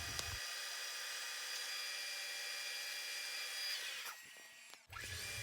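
A center drill bit bores a starting hole in metal on a machine shop lathe or mill, a steady high whine running evenly for several seconds before the cut stops and the motor spins down.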